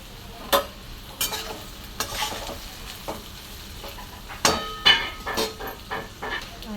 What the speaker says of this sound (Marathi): छान असं मिक्स करून घेणार आहे बघा तोंडली